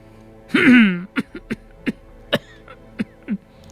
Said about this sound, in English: You seem to have a cough.